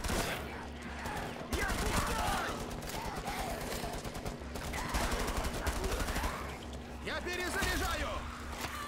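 Machine gun fire in Rainbow Six Siege, bursts of rapid gunshots that start and stop across the stretch, mixed with talking over the top.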